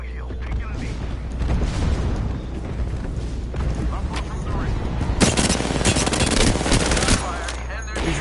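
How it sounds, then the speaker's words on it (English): Rapid bursts of automatic gunfire crackle through a battle royale shootout, sustained across the whole stretch with heavier volleys near the end, while players call out to each other over the shooting. "Hey, I'm getting shot."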